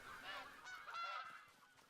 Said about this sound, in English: No fleeing goose.